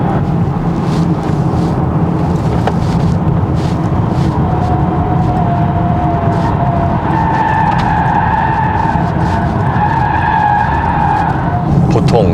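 Inside a 2024 Polestar 2 Single Motor Long Range, a rear-wheel-drive electric car accelerating gently at about 90 km/h, a faint rising electric-motor whine sits over steady loud road and tyre roar.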